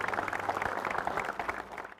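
An audience at a panel discussion on higher education applauds, a dense, moderately distant patter of many hands for about two seconds, tapering off at the end.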